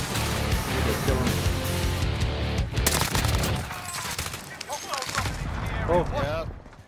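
Gunfire erupts in the video game Warzone on Rebirth Island, with loud rapid bursts and volleys of shots in the first half, then scattered shots as players talk over the action.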